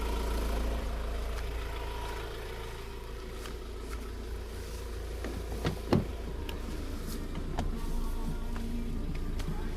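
A small grass cutter engine hums steadily in the background on a farm, continuous and moderately distant, with a few sharp knocks and clicks breaking through near the middle.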